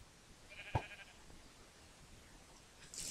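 A single short sheep bleat from the Minecraft Hexxit modpack game sounds once over a quiet background, with a brighter hiss rising at the end.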